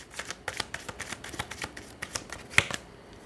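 Tarot cards are shuffled in a quick run of crisp riffling flicks and soft slaps, close and fairly quiet, with one sharper snap near the end and no one talking.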